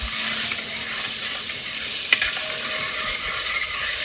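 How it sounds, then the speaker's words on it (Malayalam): Ground coconut paste goes into a pot of mango pulissery with fenugreek seeds and sizzles in a steady, loud hiss, close up. A single faint clink sounds halfway through and no one speaks. "ഇനി അരച്ചത് നമുക്ക് ഇതിലേക്ക് ഒഴിക്കാം."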